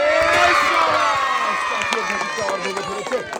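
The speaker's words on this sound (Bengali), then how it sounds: "চাচির জন্য কি আবারও সবাই আরেকটা জোরে তালি হবে" Crowd at an outdoor ball-and-goal challenge game cheers and shouts loudly, with children's voices prominent and scattered claps breaking through as the noise fades.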